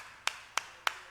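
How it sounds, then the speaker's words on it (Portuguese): Sharp, evenly spaced claps in a church service, with four crisp hits at a steady rhythm, fairly faint and separated by near silence. "Aplauda o Senhor Jesus bem forte"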